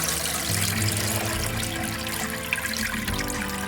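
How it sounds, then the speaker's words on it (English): Water drains from an aquaponics bucket solids filter pulled from the tank, a continuous close rushing trickle and gurgle that stays fairly loud and steady for a few seconds. "Let it drain down a little bit."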